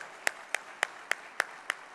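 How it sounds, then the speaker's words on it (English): A handful of claps at an alumni club inaugural event at the Taj, six sharp hand claps in an even, quick rhythm, fairly faint and close, with no voices over them. "round of applause to IIMB."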